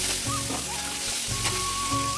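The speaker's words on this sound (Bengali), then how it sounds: "এই জন্য ঢাকা দিয়ে ভাজতে হবে।" Fish frying in hot oil under a lid, with a dense, continuous sizzle and spatter at moderate loudness, close by and without voices.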